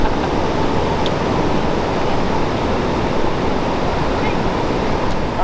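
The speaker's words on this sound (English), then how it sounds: "Look at the river." A river rushes steadily at a fishing spot in Ohio, a dense, even roar of flowing water that holds at one loud level throughout with no voices over it.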